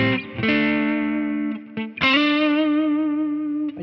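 An electric guitar runs through compressor, overdrive, low/high cut, delay and reverb effects, playing two sustained, distorted chords that ring out with a smooth, echoing tail, the second struck after a brief pause.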